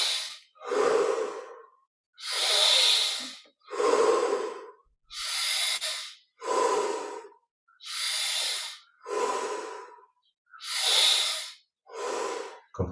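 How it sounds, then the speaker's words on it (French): Slow, deep breaths during a guided meditation, about ten long inhales and exhales in an even rhythm, close and clear in a quiet room with no talking. "10 respirations encore, un petit peu plus d'oxygène à chaque fois"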